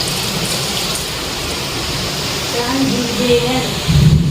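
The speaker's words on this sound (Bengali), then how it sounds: "ভালো লাগছে বৃষ্টির ওয়েদারটা" Evening rain falls steadily during a storm, a continuous hiss of drops on surfaces, with brief voices and clinks of a household breaking through near the end.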